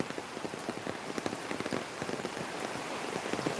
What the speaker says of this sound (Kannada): ಜೋರು ಮಳೆ ಬಂತು ಮಾತ್ರ.